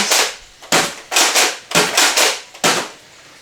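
A Nerf N-Series blaster shooting foam darts: about seven loud, sharp pops close by, each with a short airy whoosh, fired in a quick uneven sequence.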